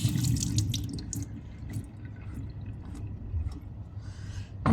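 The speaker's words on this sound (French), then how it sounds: "je rince les courgettes" Courgettes rinsed under a running kitchen tap, a steady close splash of water with occasional drips and squishy handling sounds.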